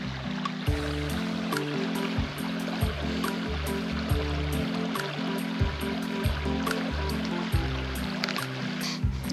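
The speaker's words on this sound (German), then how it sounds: "Hier fließt die Schlaube und ich muss ehrlich sagen, mit reichlich" The Schlaube river runs full of water, giving a steady close rush and burble, with a repeating low thumping rumble underneath and no voices.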